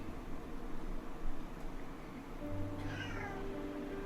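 A cat meows in the video game Drizzlepath, a clear drawn-out call standing alone over a soft hiss of background noise.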